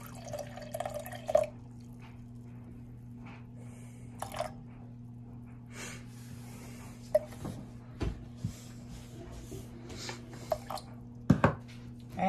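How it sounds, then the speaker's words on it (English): Water is poured into a sourdough starter, heard as faint drips, trickles and small wet splashes spaced irregularly over a steady low hum in a quiet room. "And then I'm going to feed it 100 grams of water."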